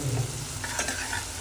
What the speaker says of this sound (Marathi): आता कांदा परत आलाय तर त्याला आपण लसूण टाकून जरा जिवंत करून घेऊया मस्त असा.